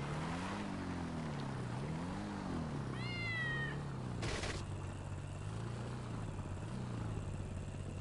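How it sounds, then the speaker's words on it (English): A cat in the GTA 5 Online video game gives one short, rising meow against a steady low engine-like drone and a brief burst of noise nearby. "Look at the kitty cat."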